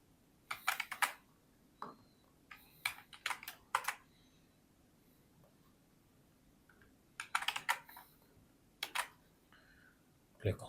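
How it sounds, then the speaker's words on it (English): Someone types on a computer keyboard in short irregular bursts of quick clicking keystrokes, close and fairly clear, separated by quiet pauses. "Let's type our name and let's type our URL in the value."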